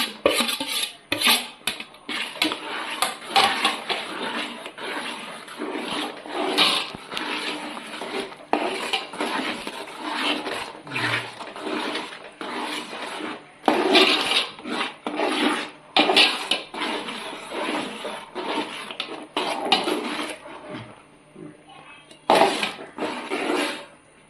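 A spoon scrapes and stirs thick jackfruit chakka varatti mixed with ground cumin in a pan, making repeated close rubbing and clinking strokes with short pauses.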